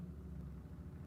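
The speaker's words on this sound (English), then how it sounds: "There's a motorcycle outside my house." Motorcycle engine idling outside a house, a steady low rumbling drone held at an even level throughout with no voices over it.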